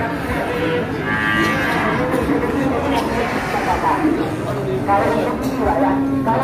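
Cattle moo at a livestock farm on Lombok, with several drawn-out calls mixed among background murmur and a dense, busy ambience.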